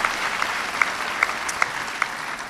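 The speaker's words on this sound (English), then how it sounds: "So let's give the audience here a great applause here." At an early childhood graduation ceremony, an audience claps for the staff, with steady mid-level applause and a few sharper individual claps standing out near the front.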